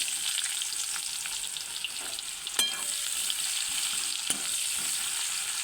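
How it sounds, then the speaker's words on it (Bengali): Chopped onion frying in a pan for a potato, pointed gourd and egg curry, giving a steady close sizzle with a few sharp spatula clicks and scrapes. "পেঁয়াজটা ভালো করে লাল লাল করে ভেজে নেব।"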